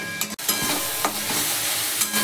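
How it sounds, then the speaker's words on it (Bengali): Loitta dried fish curry is sautéed with salt in hot oil, giving a close, steady sizzle broken by scraping stirs of a spoon against the pan every second or so, with no talk. "লবণ দিয়ে এটাকে এবার কষানো হবে, ভালো করে কষাবো তেল ছাড়া অবধি"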